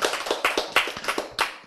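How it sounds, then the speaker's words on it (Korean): A small seminar audience claps along at a Korean church Bible lecture, a run of distinct, fairly close hand claps in an uneven rhythm, some louder than others, with no talk over them. "박수 치세요"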